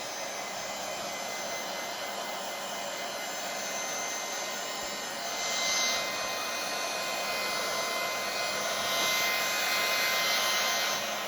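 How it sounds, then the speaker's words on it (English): A hairdryer blows steadily up close to dry and heat-set ink on a homemade decoupage napkin, a continuous whooshing whine that swells slightly in intensity partway through. "I would give it a quick blast with a hairdryer or a heat gun, just to heat set it in and dry the ink out."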